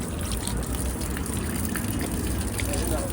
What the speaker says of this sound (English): all over Rome are these fountains, and that water is good to drink